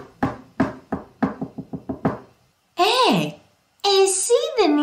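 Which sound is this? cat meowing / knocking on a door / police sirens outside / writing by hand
knocking on a door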